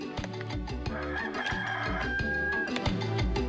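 Hens cluck repeatedly in the 102 Dalmatians: Puppies to the Rescue video game, with short clipped calls over a rhythmic game music loop and a longer drawn-out squawk partway through.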